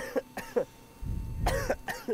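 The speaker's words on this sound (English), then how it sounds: "Just keep coughing." A person coughs several times in short bursts at a trackside racing event for modified cars, with a rumbling low background noise partway through.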